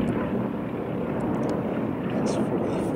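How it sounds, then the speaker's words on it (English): Bristol Blenheim aircraft landing at an airfield display, a steady broadband engine roar with heavy wind buffeting throughout, distant and continuous, mixed with crowd murmur. "Switch to see the Bristol Blenheim landing"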